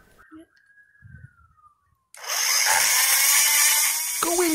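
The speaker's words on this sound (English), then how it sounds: "Go in carefully with the cutting tool, taking your time as this is a long process." A Dremel rotary tool fitted with a carbide burr grinds into a steel locking wheel nut on an alloy wheel, first a rising whine, then a loud, steady, harsh cutting screech up close for the final seconds.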